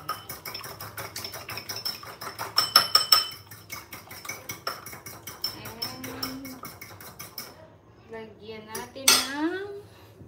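Tofu being scrambled in a pan for a street-food tofu dish, with rapid rhythmic metal utensil clinks and scraping against the pan, followed by a few louder clanks near the end.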